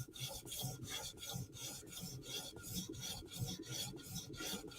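A Chris Reeve Umnumzaan tanto knife edge is drawn over a sharpening stone in steady, rhythmic rasping strokes, each pass a close, even scrape repeating about twice a second with no voices.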